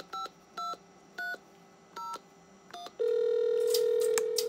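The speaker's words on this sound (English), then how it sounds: "So if I go on this phone and dial 8." Dialing out on a Strowger PABX telephone exchange line: five short evenly spaced tone bursts like dial pulses, then a steady loud line tone takes over with sharp clicks and crackles on top, no voices.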